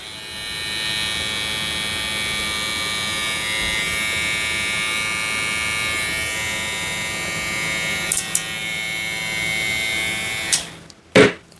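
A KEMEI KM 2372 hair clipper runs at full speed for about ten seconds with a steady, loud electric buzz and hum. A few clicks and a sharp knock mark the end of the run.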